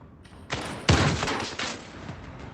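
Shotgun fire in a VR shooter game: several sharp, loud blasts in quick succession, each with a booming decay, the heaviest near the start and lighter shots trailing after.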